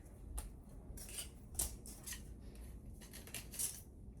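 Scissors snip through yellow paper in a few short, crisp cuts spread irregularly, fairly close and quiet, while Easter wreath decorations are being made.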